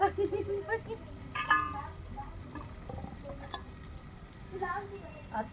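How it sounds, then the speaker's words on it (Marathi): Potatoes cooked with black masala sauté in a pan in a village home kitchen: a soft, fairly faint sizzle with occasional scrapes and clinks of stirring, while a voice talks at moments in the background. "आता एवढा परतून घेते"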